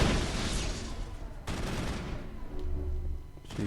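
Dense, continuous gunfire in the Mass Effect video game, a loud sustained barrage of rapid shots with a sharp burst partway through, no talking.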